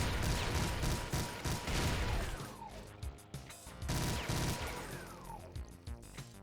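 Gunfire in the Doom video game with the Brutal mod, a rapid, close volley of sharp shots and crashing impacts that thins into scattered bangs and a trailing clatter.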